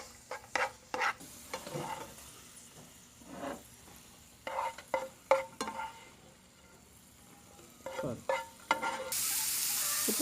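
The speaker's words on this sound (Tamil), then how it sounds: "கேஷ்யூவும் முந்திரியும் கிஸ்மிஸும் நல்ல ஃப்ரை ஆகி வருது." Cashews and raisins frying in ghee while a utensil stirs them, giving a soft steady sizzle broken by repeated scraping and clinking strokes against the pan, close and fairly quiet.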